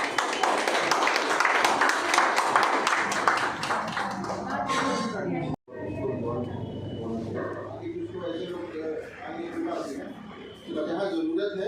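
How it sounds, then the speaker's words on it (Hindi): Audience at an SBI Staff Association function in Gorakhpur for women employees bursts into loud, dense applause for several seconds, then it stops abruptly and someone speaks over a busy room. "एक बार जोरदार ताली के साथ"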